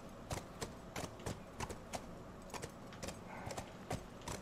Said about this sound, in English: It's kind of cool riding around a horse.